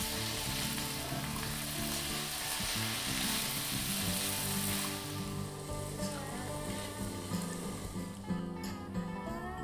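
Potatoes and onion sautéing in a pan over a low flame, a steady close sizzle and crackle of frying that runs throughout, with occasional scraping and stirring and no one talking.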